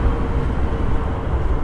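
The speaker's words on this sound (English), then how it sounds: "We have the light rail." A light rail train rumbles past at night near a temple, heard as a steady low rolling drone with faint rhythmic thumps across the whole stretch, fairly distant and with no talk.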